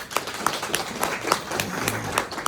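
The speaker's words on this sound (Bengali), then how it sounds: "সকলের জন্য আমি জোরে একটা করতালি চাই" Scattered claps from a modest audience at an Empire Bay program in Barishal, with sharp individual hand claps popping irregularly over a low murmur.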